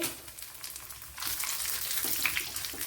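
Sliced onions frying in hot oil for a tomato curry, with dried red chillies dropped in; a steady close sizzle that turns louder and brighter partway through as the chillies hit the oil.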